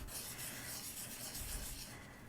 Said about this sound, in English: using this 600 grit sandpaper.